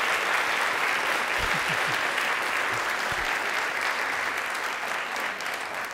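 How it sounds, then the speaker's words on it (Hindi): Studio audience applause at a Rajasthani television quiz show, a steady dense patter of many hands clapping throughout at even loudness, with a few faint low thumps partway through. "अपनी तारीफ पे ताली बजा लो भाई"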